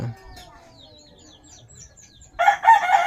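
A chicken clucks and squawks loudly near the end, after quiet moments with faint bird chirps in the background.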